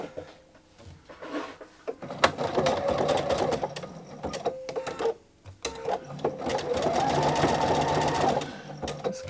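A sewing machine stitching a plain zigzag in white thread runs in two bursts of steady rapid whirring and clatter, separated by a brief pause, close up with no talk.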